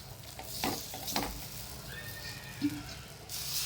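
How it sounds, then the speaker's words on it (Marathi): Water splashed onto a very hot iron griddle while cooking bhakri hisses in short bursts, a faint sizzle over quiet kitchen background with a few soft clinks. "लावा पाणी लय तवा तापला"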